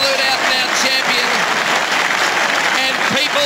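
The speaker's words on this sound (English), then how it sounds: "People just applaud a great champion today." A packed stadium crowd at the 2001 AFL Grand Final between Essendon and Brisbane claps and cheers in a loud, continuous roar after a long-range goal, with a commentator talking over it.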